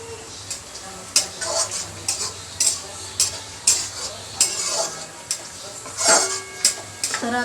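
Onions fry in a pan for a pomfret curry, a steady low sizzle broken by regular spatula scrapes and taps against the metal, close and moderately loud.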